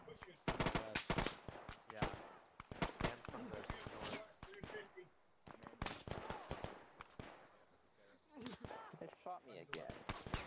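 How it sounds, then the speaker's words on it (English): Gunfire in the military video game Arma crackles in dense, rapid bursts of loud shots, with brief lulls between volleys and a player's voice talking over parts of it. "Something keeps shooting at me."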